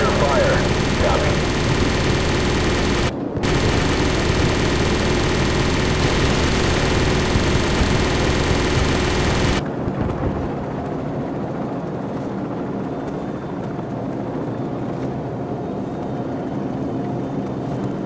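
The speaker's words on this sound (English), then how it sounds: "Be advised, friendly helicopters entering the area." Helicopters fly into a combat zone in Call of Duty 4: Modern Warfare, a loud, steady engine and rotor roar that fills the scene and then drops to a quieter, lower rumble partway through, with radio voices talking over it.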